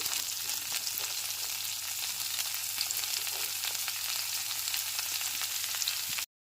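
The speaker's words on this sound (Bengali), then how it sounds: "ফোড়নটা হালকা করে ভেজে নেওয়ার পর সমস্ত সবজিগুলোকে এবার দিয়ে দিচ্ছি ফুলকপিটা আগে দিয়ে দিলাম গাজর কুচিগুলো দিয়ে দিচ্ছি বিনসটাও দিয়ে দিলাম" Cauliflower, carrot and beans frying in a spiced tempering, a steady dense sizzle that holds evenly throughout before cutting off abruptly at the end.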